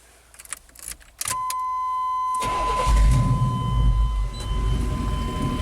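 After some clicks and a jangle of keys, a classic Chevy engine cranks and catches, then settles into a steady rumbling idle close by.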